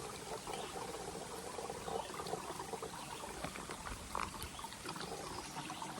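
Water trickling and pouring steadily through a backpacking water filter on a hiking trail, a continuous close splashing stream with no talking.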